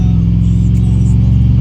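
A budget LS-swapped car with a 4.8 V8 engine holds a loud, deep, steady rev, its rumbling harmonics droning close and unbroken with no talking.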